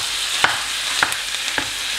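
Minced meat sizzling and frying steadily in a hot pan, a constant close crackle with a few faint stirring clicks, no voices.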